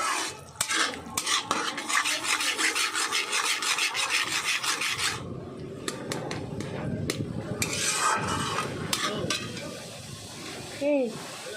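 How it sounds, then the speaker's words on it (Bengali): Mustard spice paste for pabda fish is stirred and sautéed in a pan, giving a loud, continuous rasping scrape of a spatula against the metal with rhythmic strokes, then quieter rubbing and clinks, with a voice heard near the end. "এখানে মশলাটা কষাচ্ছি"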